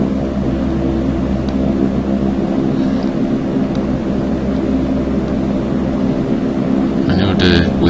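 An aircraft taking off from Kathmandu, heard as a steady, loud engine and propeller drone held throughout with a low rumble, ending in a brief burst of higher noise.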